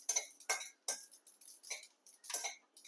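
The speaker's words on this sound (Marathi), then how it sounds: "हे बघा पटपट होत आहे. बघा उडतंय तडातड." Sesame seeds roasting dry in a pan for homemade mukhawas pop and crackle in sharp, irregular ticks. Seven or eight quiet, close snaps are scattered across a few seconds with near silence between them.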